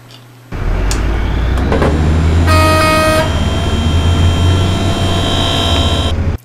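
DC motor driven at full speed in one direction through a BTS7960 driver controlled by an ESP32, starting abruptly into a loud, steady whine and hum that holds for about six seconds before cutting off.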